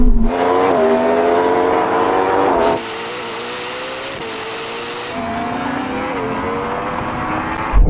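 A Ferrari SF90 and a Yamaha R1M accelerate hard in a drag race, heard as a loud, close engine roar climbing through gear changes, then a sharp burst of wind-like noise before the engine tone returns.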